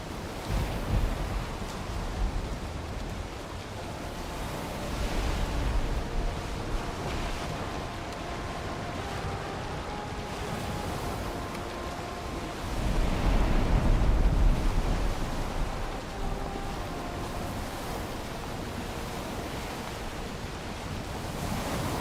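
Sailing a boat across open sea in the Valheim video game: steady broadband wash of waves and wind rolling continuously, with a louder surge of water near the middle and no talking.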